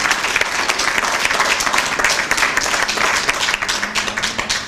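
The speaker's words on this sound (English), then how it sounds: "Let's give her another hand of applause." Guests at a Caribbean American Heritage Month breakfast give sustained applause, loud, dense clapping that continues steadily throughout with a faint background voice near the end.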